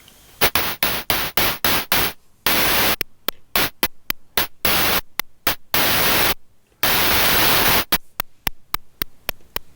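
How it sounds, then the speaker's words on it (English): A Befaco Percall Eurorack percussion module fires a white-noise cymbal in a loud, regular rhythm of short hissing bursts, with the decay length changing so some hits stretch into long sustained washes of noise. "change the length of the white noise cymbal sound like this"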